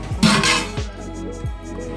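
Plates and steel bowls clink and clatter as a Kathiyawadi thali is set out with aloo methi, sev tamatar and chavda, a few sharp metallic knocks close by with no talking.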